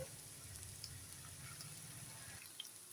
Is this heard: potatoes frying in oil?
yes